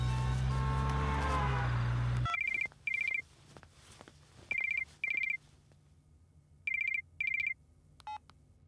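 A telephone rings in repeated paired bursts of a bright electronic tone, three double rings with short gaps, after a loud low rumble that cuts off abruptly.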